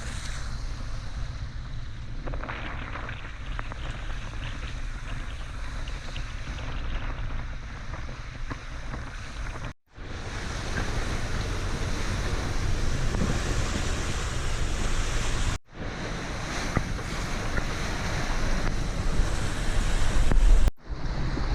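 Strong wind roars and waves crash around a sailing yacht heading into 30-knot apparent wind at 8 knots under mainsail alone, in winter off Tasmania's east coast near Schouten Passage. The wash stays loud and continuous, broken by a few abrupt cuts.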